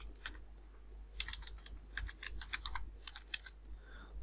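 Keys clatter on a computer keyboard in uneven bursts of quick clicks, close by and without talk, over a low steady hum.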